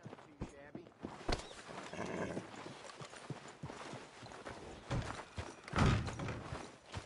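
A horse in the Red Dead Redemption 2 video game clip-clops along with irregular hoof thuds and a brief whinny, mixed with in-game ambience and voices talking.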